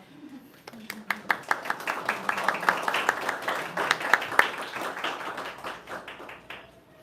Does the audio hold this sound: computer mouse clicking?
no